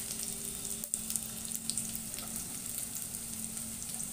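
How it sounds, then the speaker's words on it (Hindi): Finely chopped onion frying in hot oil in a pan, a continuous close crackling sizzle with small pops and a stir or two, no talking. "अब डालते हैं एक प्याज बारीक कटा हुआ, इसको थोड़ा ब्राउन करेंगे।"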